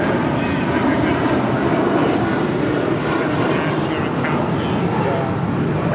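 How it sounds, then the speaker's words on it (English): A United Airlines Boeing 757-200 departs from an airport in a loud, continuous rumble of engine noise that holds steady for the whole six seconds. "That is United Airlines 1076 departing to Newark on 757-200"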